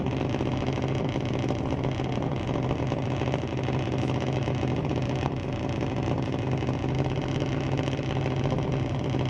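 A Thunder licensing junior drag race car at Mission Raceway Park drones loudly and continuously, its engine sound dense and unbroken throughout.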